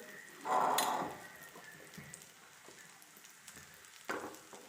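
A bhagar and potato sandwich fries gently in a pan on low-medium heat, giving a quiet sizzle with a brief louder burst near the start and another near the end.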